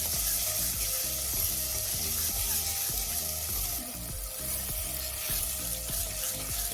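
Wheat flour halwa being roasted in a pan for aate ka halwa, a steady close sizzle with soft stirring scrapes running throughout, no talk.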